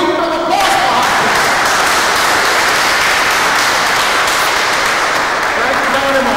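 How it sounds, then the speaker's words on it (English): Audience applauding at an event as a woman is introduced, a dense, loud, continuous wash of clapping and crowd noise sustained throughout. "another applause for her, please"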